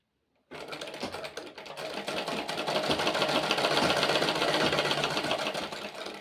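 A sewing machine stitches men's underwear in one continuous run that starts abruptly and holds a fast, even mechanical whir and needle chatter, close and fairly loud.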